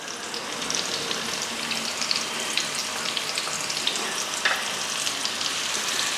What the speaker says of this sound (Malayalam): നമുക്ക് അതിനകത്തേക്ക് ഉള്ളി അരിഞ്ഞിട്ട് കൊടുക്കാം.